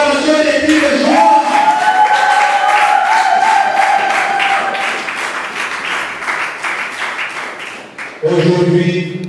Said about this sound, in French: Avec les acclamations des cris de joie.